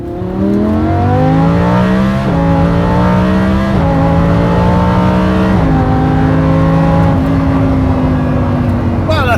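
Lamborghini Huracan V10 engine accelerating hard through successive gears, loud rising howl heard from inside the car with pitch dropping at each upshift, voices faintly present under it.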